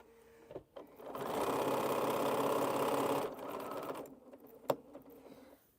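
A sewing machine stitches a quilt in a steady, close whir for about two seconds, then slows and stops, with a few handling knocks and a sharp click after it.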